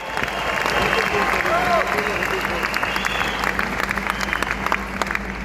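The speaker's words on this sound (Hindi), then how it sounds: "इसलिए लेडीज के लिए जोरदार तालियां" An audience at a business event applauds the women present, steady dense clapping filling the room for several seconds, with a faint voice running underneath.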